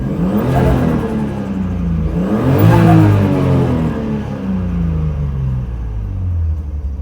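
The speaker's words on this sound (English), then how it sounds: "let me just do one quick little rev here." A Nissan 240SX with a swapped RB20 engine gives a quick rev blip, its loud, rumbling exhaust note climbing to a peak and falling back to a steady idle, close and without talk.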